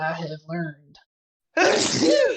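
A single loud, close sneeze bursts out after a brief pause. Someone speaks a few words just before it.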